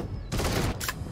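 Automatic M16 rifle fire in a first-person shooter game, a loud sustained burst that pauses briefly before another short volley, with no talking over it.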